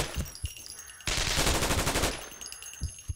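A sustained burst of rapid automatic MP5 submachine gun fire in the video game Terrorist Takedown 2, about a second long, between quieter stretches of scattered shots and mechanical clicks.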